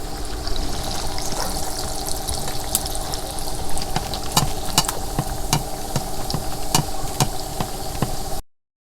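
Oil sizzles steadily in a kadai as Dhakai parathas fry, with scattered sharp crackles and pops, close and continuous, with no voices.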